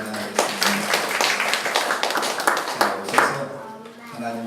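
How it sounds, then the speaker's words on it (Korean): Church congregation at a Sunday worship service clapping together to welcome a returning member, a brisk run of hand claps of moderate loudness with voices murmuring under it. "박수로 환영하겠습니다."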